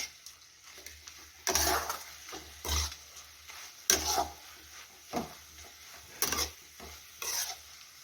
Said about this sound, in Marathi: आणि त्यामध्ये टाकून घेऊया शेंगदाण्याचं कूट सर्व मिक्स करून घेऊया